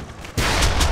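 Gunshot in the Ace of Spades blocky shooter game, a sudden loud crack that bursts in after a quiet moment and sustains a rough, noisy roar to the end.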